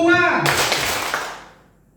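A classroom of children claps together in a group clapping game, a single sharp burst of many hands right after a voice, then a quick fade to quiet.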